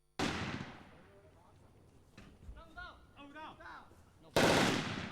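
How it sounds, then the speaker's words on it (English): Simulated gunfire and explosives during soldier training, with loud broadband bursts opening and closing the scene and people talking in between. "We are simulating real battle situations where there are sounds of gunfire and explosives"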